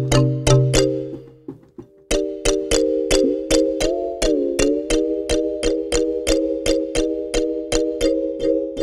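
Monkey bells preset on a 1999 Korg Triton synthesizer plays a steady train of bright metallic bell strikes, about twenty of them after a brief pause, each one ringing out and decaying into the next.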